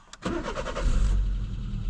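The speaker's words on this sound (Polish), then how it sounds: "Spróbuję go odpalić na benzynie i przełączyć na gaz." An Iveco Daily van is started on petrol: a short starter crank catches and the engine fires, then settles into a rough, uneven idle heard close up and fairly loud.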